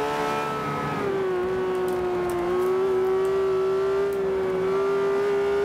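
A Lamborghini Veneno's engine revs hard in third gear in Forza 5 on the Nürburgring, a sustained, rising high-pitched engine whine, loud and continuous with no talking.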